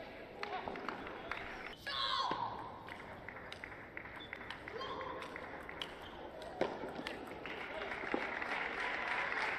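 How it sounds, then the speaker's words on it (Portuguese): Spectators applaud during a women's match, scattered clapping and crowd noise rising and falling for several seconds beneath a commentator's speech, with occasional sharp ball impacts. "por isso recebeu os aplausos aí."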